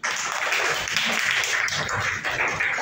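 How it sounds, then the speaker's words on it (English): A classroom of third-grade pupils clapping together for classmates, a dense, steady patter of many small hands at close range lasting a few seconds, with no talking over it. "Clap for them."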